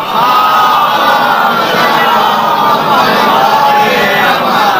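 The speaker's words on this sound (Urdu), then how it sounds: "صلوات پڑھو بابا دے بلند" A large religious gathering loudly recites salawat together, a dense roar of many voices chanting at once that stays continuous and strong throughout.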